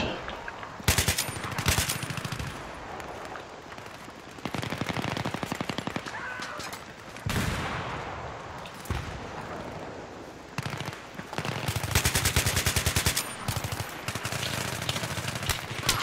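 AK-74M automatic fire in Battlefield 3 during a team deathmatch on the Canals map: loud, rapid bursts of gunshots in repeated strings, broken by short pauses and distant shots, with occasional speech.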